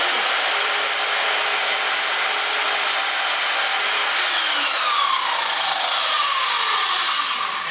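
An Einhell miter saw with a laser guide cuts through wood in one long, loud, steady whine that holds for several seconds and then falls off as the blade spins down, with nothing else heard.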